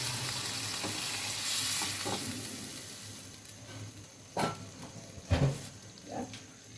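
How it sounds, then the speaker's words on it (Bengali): Spiced masala for a potato-tomato curry sizzles and fries in a pan, with a few sharp splashy bursts as water is poured in and the sizzle flares, then settles, with no talking. "এবার আমরা পরিমাণ মতো ঝোলের জন্য জল দিয়ে দিব।"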